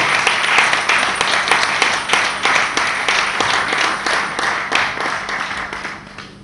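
Audience applause at a Congolese community gathering honouring national heroes, a steady wash of many hands clapping with scattered individual claps, sustained throughout and slowly fading toward the end, with no cheering voices standing out.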